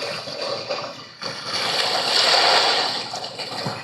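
A white-noise recording of ocean surf plays, a hissing wash of water that dips briefly, then swells into a broad, steady roar.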